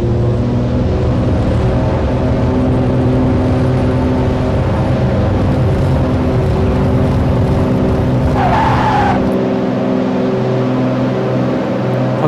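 A simulated aircraft rolls down the runway for takeoff, its engine droning at a steady, loud pitch with a brief squeal near the end before the roar suddenly thins, with no voices.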